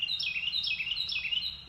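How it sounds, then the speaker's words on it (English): A single bird calls loudly and close by, repeating a quick rising-and-falling whistled phrase three times in a row. "Have my loud bird today."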